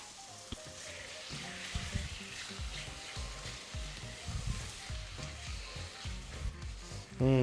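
Thai green curry paste sizzles and crackles in a pan, a soft continuous fry punctuated by stirring scrapes and small pops, with a louder clatter at the very end.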